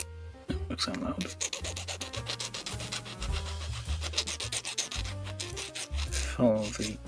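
Plastic model kit parts being filed by hand, a continuous close scratchy rasp of steady back-and-forth strokes, with music playing underneath throughout.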